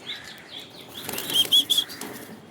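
Pigeons of fancy breeds flap their wings in a burst of loud, close fluttering inside a cage, with faint chirps in between.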